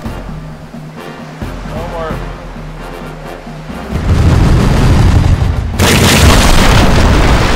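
Cannon fire booms from a ship in the East India Company naval video game, a deep rumbling blast swelling into sustained roaring noise over the sea, with game voices speaking early on.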